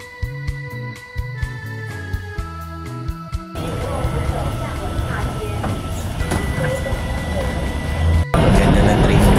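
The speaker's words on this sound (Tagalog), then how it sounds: "Ngayon, sasakay tayo ng MRT dito sa Taiwan going Taipei 101." Taipei MRT metro train in Taiwan, riding toward Taipei 101: a short tonal chime melody, then a loud, steady broadband rumble and rattle of the moving train that swells near the end.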